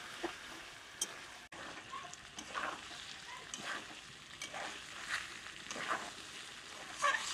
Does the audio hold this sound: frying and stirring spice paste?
yes